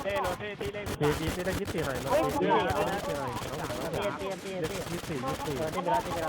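Rapid bursts of video-game gunfire crackle close and loud, with shouting players talking over the shots throughout.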